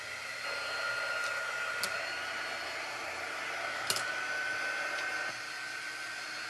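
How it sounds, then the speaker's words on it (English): A hair dryer blows steadily on drying craft pieces in a chilly room, a continuous close whooshing hum with a few faint clicks and knocks, no talk. "Let me hit these with the dryer a little bit"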